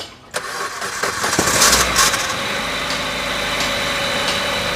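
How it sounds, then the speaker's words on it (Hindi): A diesel car engine cranks and catches, rising to a loud rev before settling into a steady, rumbling idle; no voices. "अब गाड़ी को स्टार्ट करो, चलो।"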